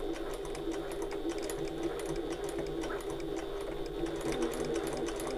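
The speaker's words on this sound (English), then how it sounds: "I'm just going to sew a little back stitch all the way across and then back" A home sewing machine runs steadily while stitching a back stitch across fabric and back again on a bag project, its motor hum and needle rattle continuous and close throughout.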